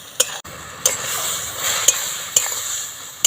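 Ridge gourd being stirred in a pan to cook off its water: a constant hissing sizzle with five or six sharp metallic scrapes and knocks of the spatula, close and clear, no talk.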